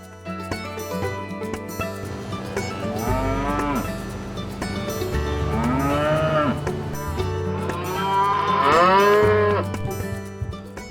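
Cattle moo loudly several times over a low rumbling background, with long drawn-out calls spaced a few seconds apart and the last one the loudest.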